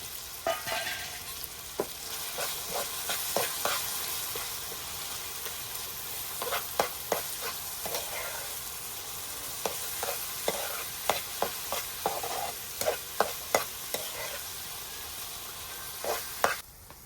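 Green masala paste and tomatoes cook in a pan on a wood-fired stove, with a soft steady sizzle broken by frequent scraping stirs and clicks of the spoon.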